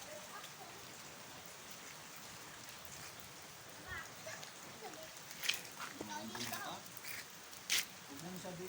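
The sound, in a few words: rain falling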